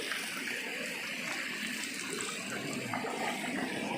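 Steady broadband rush of water flowing through a mountain stream gully, continuous and fairly close, with no voices over it.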